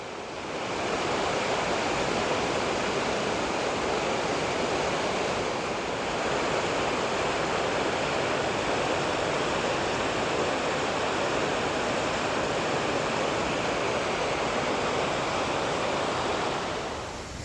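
Chinook Creek at Mt Rainier rushes steadily beside a small footbridge, a close, loud, unbroken broadband roar of flowing water that holds constant for the whole stretch with no voices.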